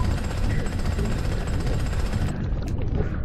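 In the video game Jak and Daxter, a large drill runs nonstop as a loud, dense mechanical rattle like a jackhammer, steady for several seconds before cutting partly away near the end.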